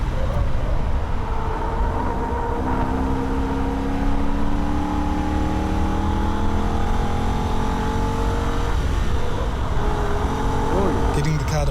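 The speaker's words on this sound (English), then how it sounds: "turn the car in and go back to wide open throttle for a brief moment" A Holden VF Ute's engine runs hard at wide open throttle on the Nürburgring, a steady, continuous drone of rising and shifting revs heard throughout under voices.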